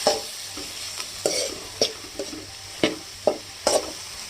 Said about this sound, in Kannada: ಇವಾಗ ಈರುಳ್ಳಿನ ಅಷ್ಟೇ ಚೆನ್ನಾಗಿ ಫ್ರೈ ಮಾಡ್ಕೊಳ್ಳಿ